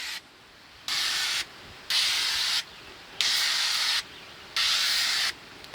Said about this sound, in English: So I'm going to spray all the walls lightly.